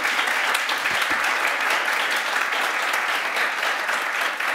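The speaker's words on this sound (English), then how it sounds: "It's okay to clap, ladies and gentlemen." A crowd applauds steadily throughout, a dense, even wash of clapping hands with no pauses.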